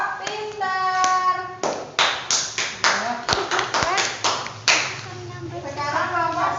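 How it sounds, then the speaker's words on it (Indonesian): A classroom of students claps in a quick, patterned rhythm of sharp, evenly spaced beats for a student group, with a teacher's voice talking before and after. "Tepuk tangan untuk kelompok pintar."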